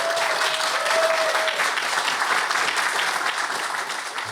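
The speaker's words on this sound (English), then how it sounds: "Can we get a round of applause for them" A live audience gives a steady, full round of applause for podcast guests, loud and sustained with no talk over it, easing slightly at the end.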